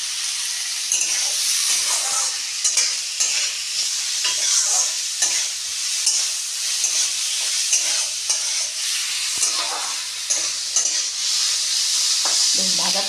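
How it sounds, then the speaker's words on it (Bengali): Onions fry in a pan while being stirred, a loud continuous sizzle near at hand with repeated scraping and tapping of the spatula at an uneven rhythm. "আমি পেঁয়াজটাকে কীভাবে ভেজে নিয়েছি ঠিক এইভাবে ভেজে নিতে হবে"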